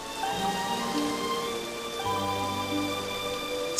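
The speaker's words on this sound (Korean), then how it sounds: "창밖에선 비가 내리고" Rain falling outside a window at night, a steady, even hiss of drops filling the whole moment, with faint tonal background music running underneath.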